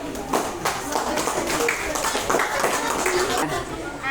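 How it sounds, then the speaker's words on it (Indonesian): A classroom of students claps hands for a group about to present, a scattered burst of clapping at moderate loudness with voices talking underneath. "Ayo tepuk tangan."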